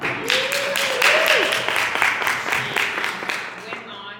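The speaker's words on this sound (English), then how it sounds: "She deserves a round of applause." An audience at a makeup class claps in a lively round of applause, with whooping voices and chatter mixed in, easing off near the end.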